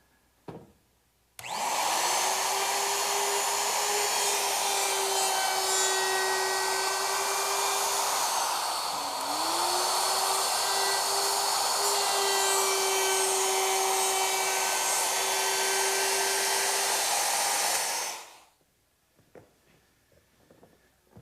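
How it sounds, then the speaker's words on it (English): A router fitted with a 1/4 inch round-over bit, set shallow, rounding wood corners: a loud steady high whine that starts abruptly, dips briefly as the cut loads the motor, then runs on before spinning down, with no speech. "they also hold the piece securely in place while I route it"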